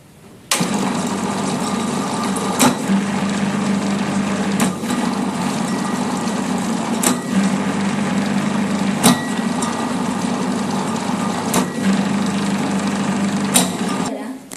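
Washing machine motor turning its drum back and forth under fuzzy logic control, a steady whirring mechanical drone with regular clunks every couple of seconds, close and continuous.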